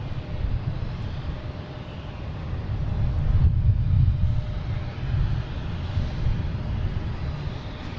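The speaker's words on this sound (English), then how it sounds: "Next coming in is a Delta A330-900 coming in from Madrid." A Delta Airbus A330-900 arriving from Madrid at Boston Logan airport gives a steady, low, distant jet rumble that swells slightly midway, fairly faint and with no voices.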